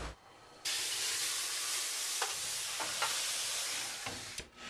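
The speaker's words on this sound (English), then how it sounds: "And don't forget to add steam!" Steam hissing steadily into a hot 450F oven for baking blue raisin walnut loaves, a broad, constant sizzle with a few faint clicks throughout.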